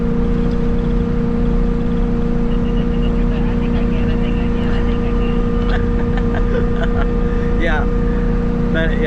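Engine of an RV climbing Telegraph Pass near Yuma, Arizona, after kicking down a gear: a loud, steady, droning hum with strong low tones continuing throughout, while people talk over it.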